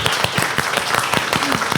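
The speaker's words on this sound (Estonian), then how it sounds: "Aplaus." Small audience applauding at a discussion event, with distinct individual claps in an uneven rhythm, close and moderately loud, no speech.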